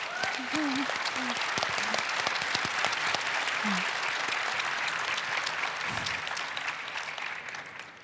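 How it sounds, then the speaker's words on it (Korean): An audience at a 2018 Seoul Digital Forum session on dignity and the right to respect gives a broad, sustained ovation lasting around eight seconds, with a few brief voiced calls early on before it slowly fades. "다시 한번 이분들의 용기에 존경을 표하는 의미에서 큰 박수를 보내고 싶습니다."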